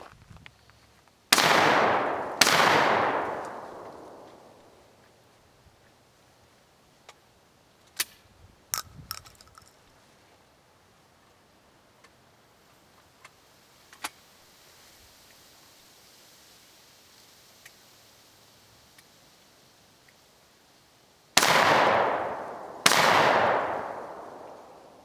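A Remington SPR310 12 gauge shotgun, made by Baikal in Russia, fires two loud close booms early on, then after a long near-silent stretch with faint clicks and handling noises, two more blasts ring out at the end.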